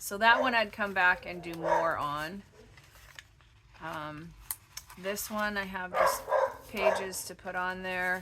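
A small dog barks and yips in short bursts from a room where a woman crafting greeting cards keeps talking over it.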